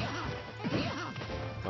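Up smash attacks in a Super Smash Bros tournament match, each a quick swooshing hit with a light crash. Several strike in fast succession over a low game background.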